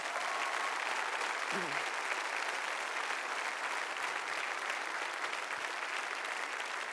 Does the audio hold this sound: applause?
yes